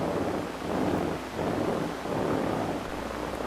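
Air blown onto a cockroach leg resting against a microphone, heard as a broad rushing gust that swells and fades in two steady waves, close and fairly loud with no talk.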